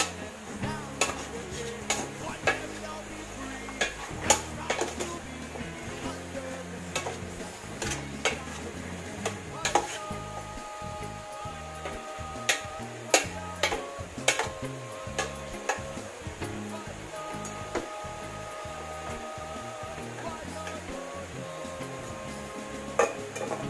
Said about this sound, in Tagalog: Kailangan haluin ng haluin ng haluin.